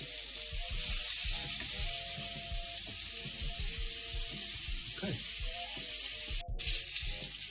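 Steaks and eggs sizzle in a frying pan, cooked toward medium: a continuous bright hiss runs throughout, with soft handling knocks underneath and a brief drop in the sizzle near the end before it returns.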